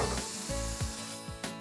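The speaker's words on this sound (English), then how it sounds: "You can hear it sizzling." Potatoes sizzle steadily in a hot pan, a constant crackling hiss broken by a few soft scrapes and knocks.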